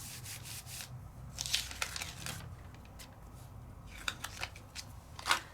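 A rubber stamp is rubbed by hand onto rice paper, producing soft scratchy rubbing strokes and faint papery crinkles in irregular bursts, close and quiet with no talk.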